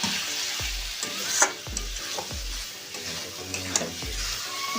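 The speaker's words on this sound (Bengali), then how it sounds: "ভালো করে এটাকে আমি মাখিয়ে নিচ্ছি।" Chicken sizzles in a pan for a village-style chicken kosha while a spoon stirs it in repeated scraping strokes, about five in a few seconds. The sizzle is steady and close, and nobody speaks.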